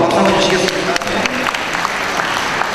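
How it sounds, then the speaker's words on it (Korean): Audience at a community-building talk show applauding a city council member, a loud burst of clapping that thins toward the end, with a voice speaking over it briefly at the start. "박수 한번 주시겠습니까?"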